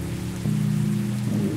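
Rain falling in the video game Sally Face, a steady, even wash of rainfall heard alone throughout, with a low tonal game drone underneath that swells partway through.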